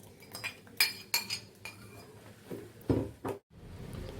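A spoon stirs curd into washed millets and black rice in a bowl, giving a series of sharp metallic clinks and scrapes against the bowl at an uneven rhythm, close and clear with no talk.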